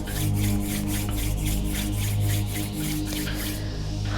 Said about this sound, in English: Let's rub the palms together, generating some heat.